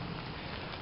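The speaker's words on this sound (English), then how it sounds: "It's rainy" Rain falls steadily during a walk to work, a soft continuous hiss of drops that stays faint and even for the brief moment, with no talking.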